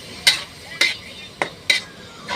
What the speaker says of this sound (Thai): แล้วก็มาผัด